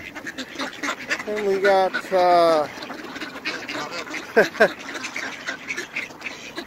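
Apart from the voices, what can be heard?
ducks quacking at Green Lake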